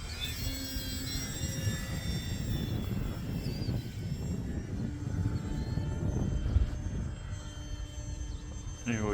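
A Flex Innovations QQ Yak 55 model airplane flies, its electric motor a steady buzzing drone with shifting whine as it speeds up and slows, heard from the ground amid wind and occasional voices.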